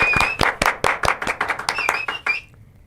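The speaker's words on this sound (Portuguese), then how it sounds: "uma salva de palmas para o grande Busnello" A small group claps for a guest at a podcast-style interview, a quick run of about a dozen sharp, fairly close handclaps that thins out and stops near the end, with no voices.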